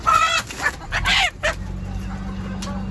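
A rooster crows nearby in a couple of loud, strained bursts, with clucking fowl and a steady low hum in the background.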